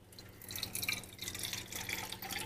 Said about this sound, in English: So we need to put 3/4 of a cup of water. This is hot water.